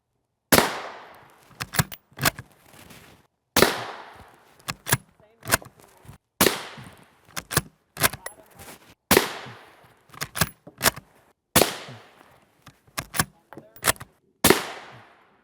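Rifle shots of M855A1 rounds fired at Highcom 4SAS4 Level IV armor plates crack out loud and sharp, about eight separate reports at irregular intervals, each followed by a short echo tail and scattered impact clatter.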